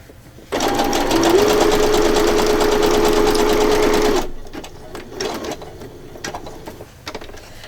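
A sewing machine runs a loose, wide messy stitch in one steady loud burst of about four seconds, followed by quieter handling clicks and rustles.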